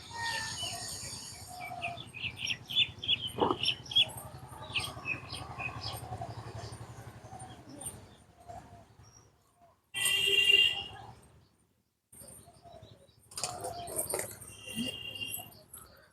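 Pigeons feeding in a flock, with soft bird calls and patters of flapping wings in bursts, alongside occasional chirps and some background voices nearby.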